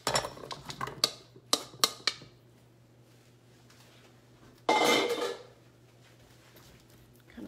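Red new potatoes tumble into a baking dish in a few quick clattering knocks, followed by a louder rushing scrape as the rest slide in, in a quiet home kitchen.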